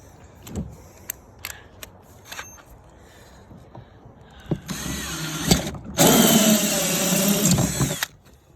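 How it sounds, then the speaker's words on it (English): A power drill whirs in two bursts, the second louder and sustained, after a few scattered clicks and taps nearby. "Where my hole to drill?"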